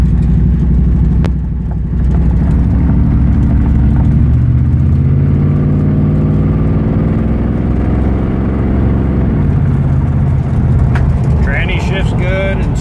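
1967 Ford Mustang engine humming steadily while driving, a loud continuous low drone with gentle pitch changes running under a voice throughout.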